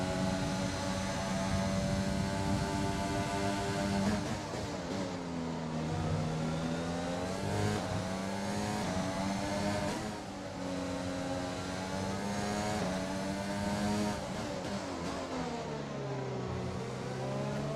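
F1 car engine in the racing game F1 2020, a steady, loud high-revving whine with rising and falling pitch sweeps as gears shift, sustained throughout without talk.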